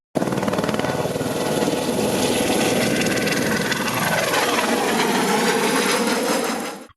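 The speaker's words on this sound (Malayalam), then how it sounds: "കുട്ടികൾ മുതൽ മുതിർന്നവർ വരെ ഹെലികോപ്റ്റർ സവാരി നടത്തി" Loud, steady thrum of a helicopter engine and rotor on a joyride at a festival in Rajakkad, close and continuous, with a pitch shift midway before it cuts off abruptly.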